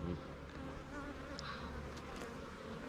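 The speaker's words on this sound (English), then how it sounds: "They're buzzing around my face right now." Honeybees buzz close around a beekeeper's face and head at a hive during a beginner lesson, a steady, fairly faint droning hum that holds for about three seconds.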